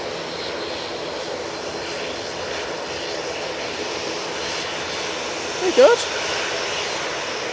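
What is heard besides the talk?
Ryanair airliner departing at Manchester Airport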